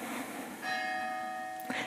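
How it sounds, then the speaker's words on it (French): A single bell is struck during a yoga class, its clear sustained ring hanging steadily over a soft room hiss at moderate volume. "Et, parfait, la cloche"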